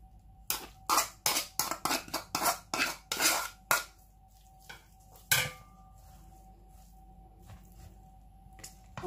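Onions go into a pan of minced meat, followed by a quick run of sharp scraping and clinking strokes from a utensil against the pan, then a quieter stretch with a faint steady hiss and an occasional knock.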